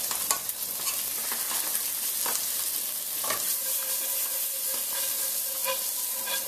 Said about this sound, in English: we have our trout browning, the skin's going to brown